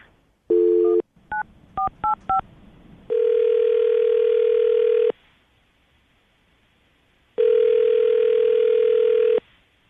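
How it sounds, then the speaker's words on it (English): Telephone line audio: a short tone, then a quick run of touch-tone dialing beeps, followed by two long ringback tones separated by silence, loud and clear with no talking. "I'm going to call her right now, get her on the phone."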